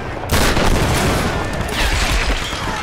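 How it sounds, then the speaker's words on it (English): Loud, dense gunfire bursts up close in a Tomb Raider (2013) shootout, with heavy rapid shots and booms filling nearly three seconds. "Who the heck else is shooting at me?"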